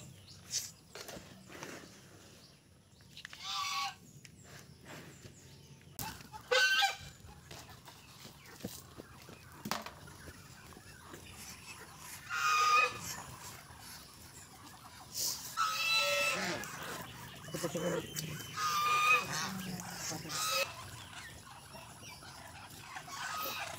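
Farm ducks kept as pets call out in scattered, intermittent bursts of quacking, fairly faint and set against quiet outdoor background noise.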